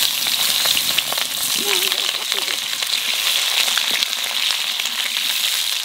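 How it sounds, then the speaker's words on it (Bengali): Potatoes frying in hot oil for a fish curry, a steady loud sizzle and crackle throughout with small pops, close and continuous, with faint talk in the background. "এই তেলের মধ্যে আগে আলু কয়েকখান ভাজে নেব।"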